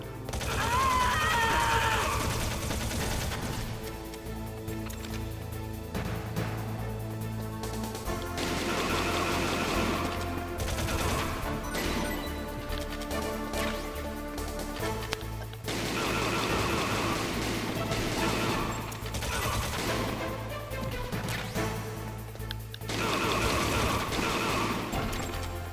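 Gunshots from Metal Gear Solid crack in repeated bursts over a long stretch of game sound, with mechanical clatter and loud layered noise that pauses and resumes several times.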